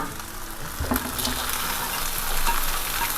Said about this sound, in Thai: ผักทั้งสามอย่างนี้นะคะ เป็นผักที่สุกง่ายค่ะ เราจะใช้เวลาผัดแค่แป๊บเดียวนะคะ